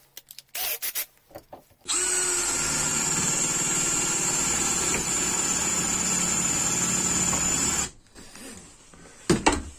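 A power drill fitted with a dull, cheap store-bought twist bit, meant for wood, whines steadily at close range for about six seconds. A few short clicks and bumps come before it, and it stops abruptly.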